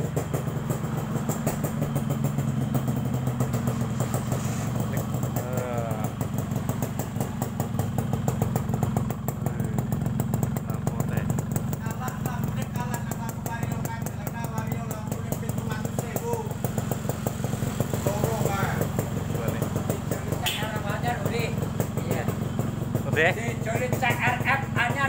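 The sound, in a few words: Yamaha RX-King motorcycle engine idling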